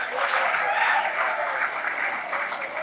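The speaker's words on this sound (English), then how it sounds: "Great applause to Chinmay." Audience applause at a talk on mobile phone addiction, a dense, steady wash of many hands clapping together, fairly loud and continuous throughout with no voices over it.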